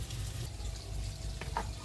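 Steady frying sizzle from a pan, a continuous crackling hiss with a couple of brief sharper pops near the end, no voices.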